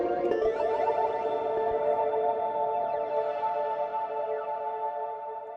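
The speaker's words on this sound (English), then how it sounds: "we've got this subaquatic chord stack" A subaquatic chord stack sample from a jungle sample pack, a sustained, effected synth chord with heavy chorus and echo, steady and alone before gradually fading.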